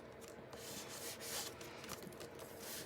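Colouring card is rubbed in short back-and-forth strokes to remove excess colour, a soft, faint scuffing friction sound heard alone.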